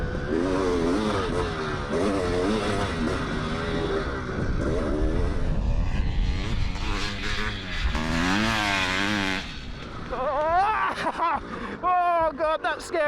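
A dirt bike engine revs up and down through a series of gear changes, the pitch climbing and dropping repeatedly. It stays loud and close under an ongoing spoken voice.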